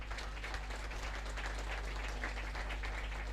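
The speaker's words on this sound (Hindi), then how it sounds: "जोरदार तालियां" Applause for the parade commander at an outdoor police recruits' passing-out ceremony in Lucknow, heard as a steady, distant wash of crowd clapping over a low hum from the sound system.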